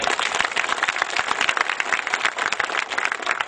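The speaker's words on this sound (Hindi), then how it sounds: "आप इस ब्रह्मर्षि समाज, इस जागृत समाज के लिए एक बार तालियां बजाइए।" An audience at a Brahmarshi community gathering claps loudly and densely, a continuous close burst of many hands with no voices over it.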